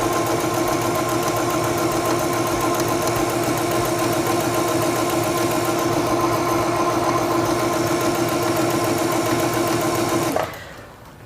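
A sewing machine runs steadily through a straight stitch, its motor a continuous, even whir with a rapid mechanical patter that holds level before cutting off abruptly at the end.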